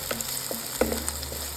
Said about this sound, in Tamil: இப்போது நறுக்கி வச்ச வெங்காயத்தை சேர்த்து அதை லைட்டாக பொன்னிறம் ஆகிற வரைக்கும் நம்ம வதக்கிக்கலாம்